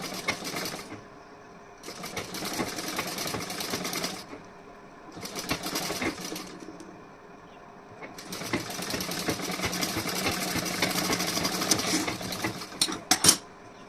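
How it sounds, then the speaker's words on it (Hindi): A sewing machine stitching fabric for a decorative neckline, running in several bursts of steady rapid whirring separated by short pauses, close by and alone, with a few clicks near the end. "इसी तरीके से यहाँ पे भी मैं स्टिचिंग कर रही हूँ।"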